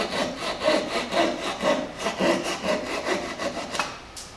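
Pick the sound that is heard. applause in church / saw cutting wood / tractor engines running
saw cutting wood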